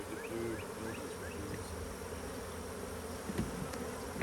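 Honey bees buzz around two open beehives, a soft, steady drone of many insects with individual bees flitting close by, fairly faint and without talk.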